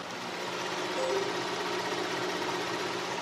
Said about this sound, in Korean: 먼저 엔진 소음부터 체크해 보도록 하겠습니다